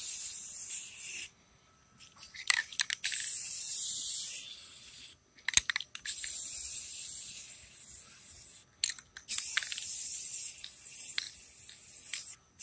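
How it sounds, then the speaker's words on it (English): A spray can applies a touch-up coating outdoors in the dark, heard as several close, loud hissing bursts of a few seconds each, separated by short pauses. "spraying this stuff down"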